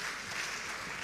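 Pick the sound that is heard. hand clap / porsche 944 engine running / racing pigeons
hand clap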